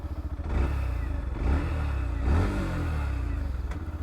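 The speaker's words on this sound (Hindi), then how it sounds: "Now when I start the engine, listen to the exhaust note" A 2021 Yamaha FZ-X motorcycle engine idles at close range with a low, throbbing exhaust note and three brief blips of the throttle, no talk.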